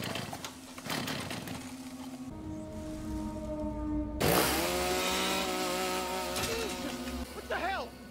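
Chainsaw in a horror movie, a buzzing motor drone with rising and falling revs across several seconds, broken by sudden louder bursts and a pitched wail near the end.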